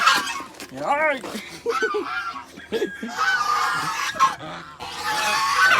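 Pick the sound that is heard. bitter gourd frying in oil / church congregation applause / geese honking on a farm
geese honking on a farm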